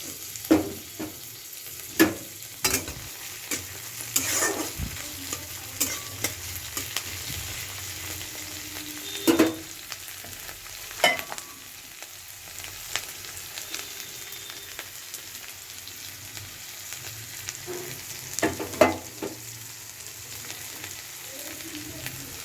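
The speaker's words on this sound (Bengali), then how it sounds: "এই যে পেঁয়াজ টমেটো আমরা ভাজছি" Onion, tomato and green chilli fry for pasta in a pan, a soft continuous sizzle like light rain, broken by occasional sharp clinks and scrapes of a stirring spoon, close and steady with no talking.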